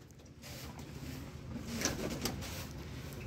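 Pigeons coo softly inside a pigeon house on a stormy afternoon, faint low calls over a constant windy background hiss with a few light knocks.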